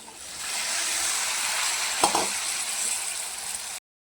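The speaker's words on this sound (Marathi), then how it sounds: "चांगला मिक्स करून घेऊया" Cauliflower being stirred in a hot frying pan with turmeric and salt, a steady close sizzle throughout with a few brief scraping stirs near the middle, no talking.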